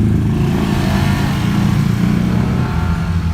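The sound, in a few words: PCX motorcycle riding past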